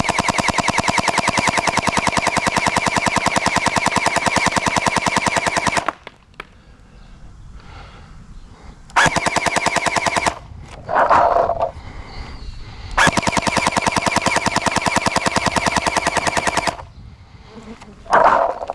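A Nerf Pro Gelfire Mythic gel blaster fires at a target 20 meters away in three rapid full-auto bursts, loud and mechanical, with short quieter gaps of handling noise between them.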